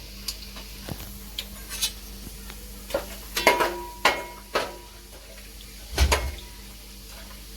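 Whole spices, bay leaf and cinnamon, stirred in a hot pan for a restaurant-style gravy, with a soft background sizzle broken by scattered scraping and clinking of the spoon against the pan.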